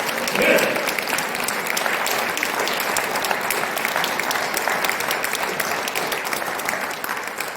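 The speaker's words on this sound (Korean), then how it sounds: "하나님께 영광의 박수를 올리시길 바랍니다" Church congregation applauding during a Sunday sermon, a full, even wash of clapping that holds steady throughout, with a brief voice near the beginning.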